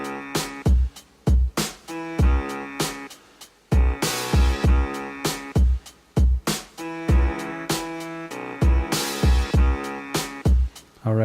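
Classic rap beat built in FL Studio, with punchy drum hits and sax-like melodic stabs in a steady looping rhythm, loud and upfront with no talking.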